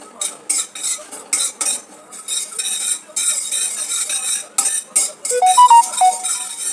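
A spoon scrapes and stirs poppy seeds as they are lightly dry-roasted in a pan, giving close, rhythmic metallic clinks and scrapes with bursts of soft rattling and no voices.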